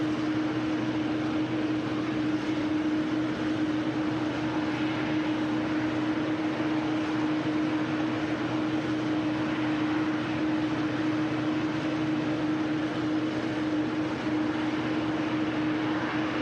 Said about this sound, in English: Singapore A350 will be the next departure by the looks of things. Now making her way onto the active runway.